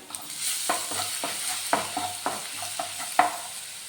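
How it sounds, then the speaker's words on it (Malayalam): Crushed garlic, ginger and pepper frying in a pan are stirred with repeated scraping strokes over a steady sizzle, fairly close and moderately loud, with no talking. "ഇത് ചേർത്ത് നന്നായിട്ടൊന്ന് ഇളക്കിയെടുക്കണം."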